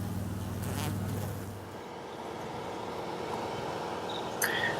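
Honey bees crowd around the queen on a hive frame, a dense, continuous buzzing hum that stays steady and close, with a brief brighter click near the end.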